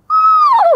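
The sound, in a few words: screech owl call imitated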